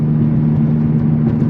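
A Honda Civic Type R turbo engine with a Phearable tune and PRL cone filter idles while warming up, a steady low drone with a whirring tone, close and continuous for the whole moment.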